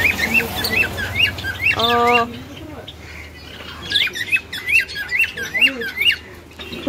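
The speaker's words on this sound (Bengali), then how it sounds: "মেলটা হচ্ছে ডাকছে আর ফিমেলটা রাগ করছে" Small pet finches chirp and squawk in repeated bursts inside a colony cage, one male calling while a female squawks back, with a brief harsh buzzy call partway through and a voice talking underneath.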